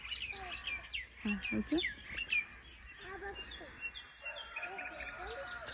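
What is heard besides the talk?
birds chirping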